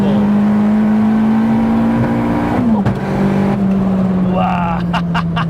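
A turbocharged MK1 Cupra with a big turbo making over 500 bhp drones loudly at steady revs, then drops pitch at a shift and climbs again, with sharp crackling pops near the end.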